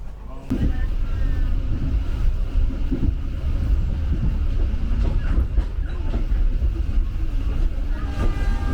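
An economy-class local train to Merak rolls steadily along the rails in a continuous heavy rumble, with faint voices murmuring underneath.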